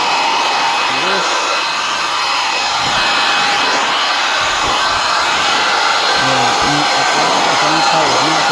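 A DPC Hydro Monster car drying blower runs steadily with a loud, continuous high-pitched air roar close by, while a voice talks faintly underneath.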